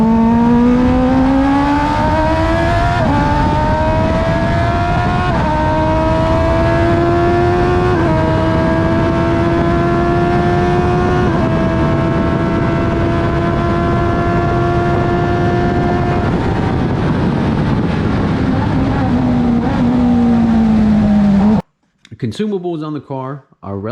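A loud 2007 Prince LSR race car engine screams at wide open throttle up to 12,000 RPM, stepping up through gears in steady rising pulls for about twenty seconds before cutting off abruptly.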